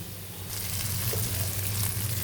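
Ginger garlic paste hits hot oil with fried onions in a pan for egg curry, giving a loud continuous sizzle that swells after a brief quieter start and holds steady to the end.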